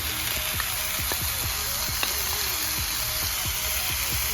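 Mutton keema fries in a pan with turmeric and salt, giving a continuous loud sizzle with soft crackles and a few light clicks from stirring, close-up with no voices.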